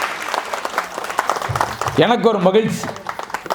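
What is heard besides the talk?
audience applause for the speaker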